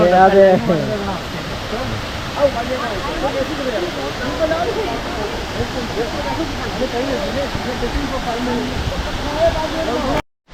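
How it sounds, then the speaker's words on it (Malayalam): A waterfall at Dawki in Meghalaya rushes as a steady, loud broadband roar close by, holding constant throughout before cutting off abruptly at the very end. "വാട്ടർഫോളിൻ്റെ മേലേക്ക് വന്നതാണ് ഞങ്ങൾ"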